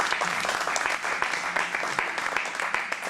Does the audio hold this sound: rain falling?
no